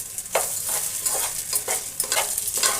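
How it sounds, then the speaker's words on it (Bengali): Spices sizzling in a hot pan over high flame for cauliflower biryani, with a spoon scraping and stirring in quick, regular strokes over a continuous soft crackle. "হাই ফ্লেমে রেখে কিছুক্ষণ নেড়ে চেড়ে একটু ভালো করে ভেজে নেব"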